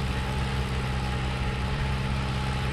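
A Bizon tractor engine idles steadily at close range with a constant low rumble and even hum, with no talk over it.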